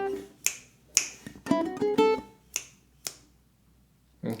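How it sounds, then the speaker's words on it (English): Sharp finger snaps close up, falling into a loose triplet pattern with spaced single snaps around a brief burst of plucked ukulele notes, with no talking. "Triplet 1, snap, snap."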